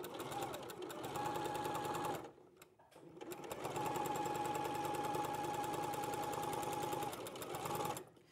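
A sewing machine stitches a Christmas quilt in two close, steady runs with a brief pause between, its even mechanical whir continuous apart from a short stop near the end.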